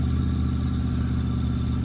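A junkyard truck engine with no front exhaust in the video game My Garage runs steadily and loudly at a rough, throbbing idle, close and continuous with no talk.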